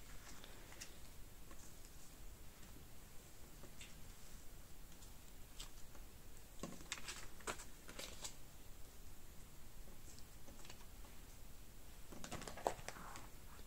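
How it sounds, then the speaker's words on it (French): Paper banknotes pushed aside and a binder slid closer across a tabletop, giving faint, close rustles and a few light taps and scrapes in an otherwise quiet room. "je vais pousser les billets et je vais vous rapprocher le classeur."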